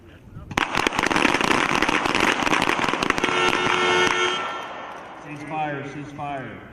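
Army team pistol match on a firing range: a rapid volley of pistol shots from several shooters cracks sharply for a few seconds, then fades as a voice speaks.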